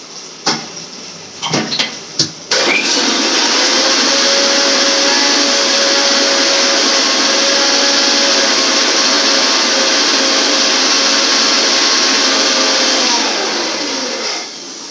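An electric mixer grinder whirring loudly and steadily for over ten seconds as it grinds masala paste for a Tamil fish curry, preceded by a few clicks and a short start-up.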